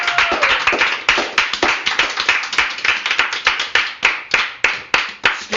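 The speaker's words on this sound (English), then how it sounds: "Everybody give him a round of applause, please." A small group claps for a performer, with sharp, close hand claps in a loose, uneven rhythm of distinct individual strikes rather than a dense roar, continuing steadily throughout.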